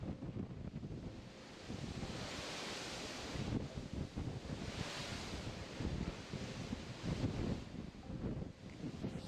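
Ocean waves wash and rush steadily far below the side of Deck 5 on the Allure of the Seas cruise ship, mixed with constant wind buffeting the microphone.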